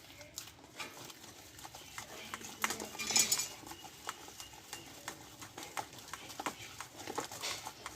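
Lentil paste for bori is beaten by hand in a bowl with a little water, a soft rhythmic slapping and scraping repeated throughout at close range, without talk.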